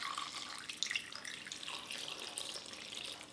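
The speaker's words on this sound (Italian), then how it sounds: "Ora ci verso" Water poured into a container holding pre-dough for Tuscan unsalted bread, a steady close splashing stream that runs evenly for a few seconds with no voices.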